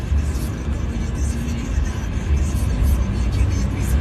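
A Citroen Berlingo van drives along at night, with steady road and engine rumble from inside the cab and faint tyre hiss throughout.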